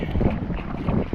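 Strong gusty wind buffets the microphone in a short, rough, low rumbling burst with no voices.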